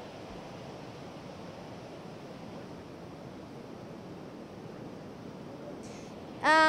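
The Hukou Waterfall in Jixian County, Shanxi, mixed with winter ice, gives a steady, even roar that holds unbroken throughout, with a short sharp sound right at the end.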